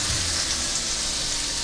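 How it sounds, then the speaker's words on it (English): Pieces of salmon sizzle in a hot pan, a steady close crackling fry with soft bubbling throughout, heard alone without talk. "Hear that nice sizzle there?"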